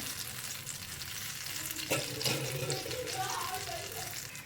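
Mango bajji frying in hot oil, a continuous close sizzle with a sharp clatter midway and faint bubbling, a voice talking quietly beneath it.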